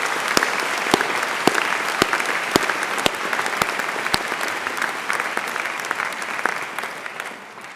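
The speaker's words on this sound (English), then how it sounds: "can I invite you to give a final huge round of applause" A large graduation audience at a Birmingham City University ceremony breaks into sustained applause, dense and steady with a few sharp claps standing out, fading slightly toward the end.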